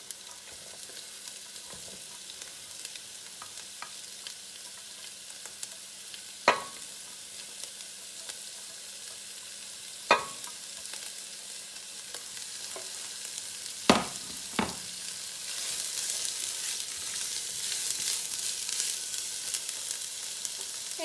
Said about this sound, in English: I'm gonna add the onion and the sausages to fry a little bit and saute.